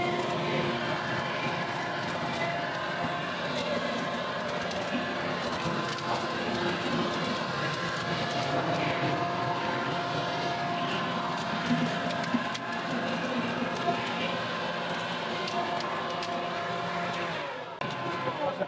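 A 40V cordless leaf vacuum runs steadily and loudly throughout, sucking up leaves and bits of mulch in a continuous whirring roar with occasional rattles of debris passing through.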